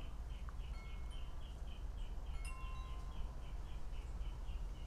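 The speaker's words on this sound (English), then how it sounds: "It's like this mockingbird is just cranking out endless tunes." A mockingbird repeats a rapid, even series of faint, distant chirping notes over a steady low outdoor rumble.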